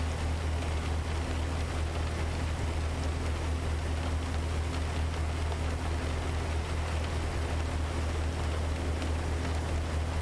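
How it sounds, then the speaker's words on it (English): Steady rain in American Truck Simulator, a continuous even hiss of falling rain over a low engine rumble from the truck, with no talk. "This has got to be the longest it's rained too, isn't it?"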